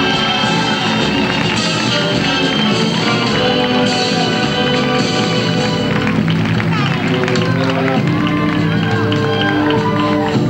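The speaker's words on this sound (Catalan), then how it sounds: "Donem-li un fort aplaudiment" A large audience at a Moros i Cristians festival event in Benissa applauds steadily, a dense continuous wash of clapping and crowd noise throughout, loud and close.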